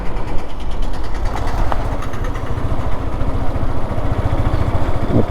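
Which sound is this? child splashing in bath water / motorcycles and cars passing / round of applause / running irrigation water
motorcycles and cars passing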